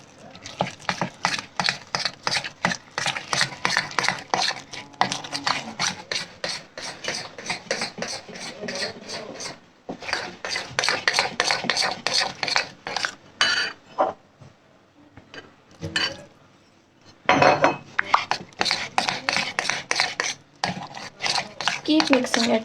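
A spoon mixes recipe batter and milk in a bowl with rapid, continuous clinking and scraping strokes, close and loud. The steady rhythm breaks off briefly twice before resuming.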